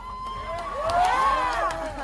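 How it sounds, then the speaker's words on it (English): A crowd of young people cheering a killing, with whoops and shouts rising and falling together, fairly loud and continuous over a short stretch. "people that are maybe 20 years old cheering the murder of someone that they know really nothing about"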